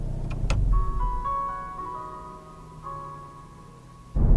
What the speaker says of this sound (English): the little music track that plays when you first jump in the car and start it up